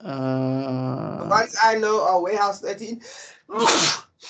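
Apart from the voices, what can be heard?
sneeze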